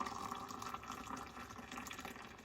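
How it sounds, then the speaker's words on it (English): Hot water poured vigorously into an AeroPress coffee maker, a continuous splashing, gurgling stream that stays steady and close throughout, with no talking. "There we go, good vigorous pour."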